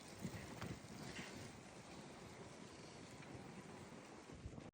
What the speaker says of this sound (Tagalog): Tugnawa oy kusog ang hangin.